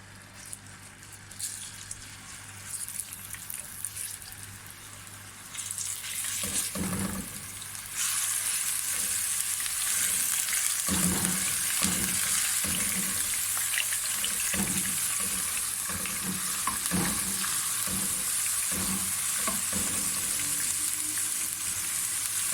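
Crushed garlic drops into a hot pan for chicken BBQ rice and sizzles loudly, a steady frying hiss that continues alone with occasional stirring scrapes.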